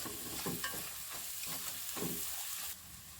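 A vangi bath spice mixture stirred and fried in oil in a pan, giving a steady close sizzle with a few soft scrapes of the spoon.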